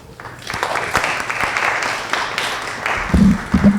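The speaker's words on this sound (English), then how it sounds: "Can you offer a warm round of applause for Sarah?" An audience at a forestry conference gives a speaker a round of applause, moderately loud and steady, with a few low thumps and rustles near the end.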